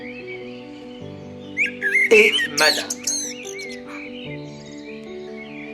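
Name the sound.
white blackbird singing in a garden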